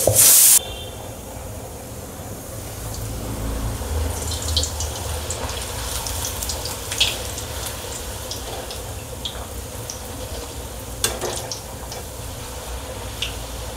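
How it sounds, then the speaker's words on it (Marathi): A rolled puri sizzles in hot oil for potato bhaji puri, a steady bubbling hiss with scattered crackles and pops, close and moderately loud after a brief sharp noise at the start, with no talk. "आता मी तळून घेते।"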